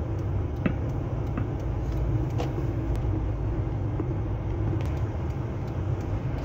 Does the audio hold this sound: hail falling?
no